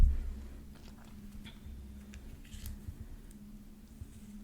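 Playing cards are handled and set down on a surface in a close, quiet whispered-ASMR setting, giving soft, sparse snaps and slides over a low steady hum.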